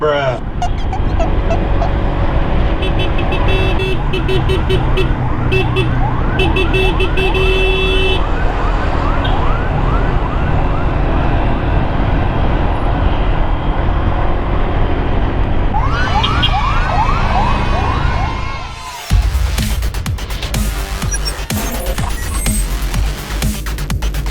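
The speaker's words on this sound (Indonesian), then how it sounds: "Di depan kita ini ada ambulans, itu ambulan Aspila" A loud wailing ambulance siren sweeps up and down continuously over road and engine noise, heard from a motorcycle close by and sustained, with a sudden louder burst near the end.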